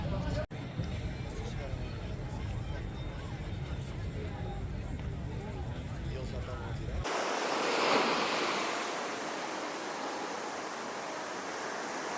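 Atlantic Ocean surf washing onto the beach at Albufeira, Portugal, a steady broadband rush of breaking waves that swells and recedes, coming in clearly after several seconds of crowd chatter and babble.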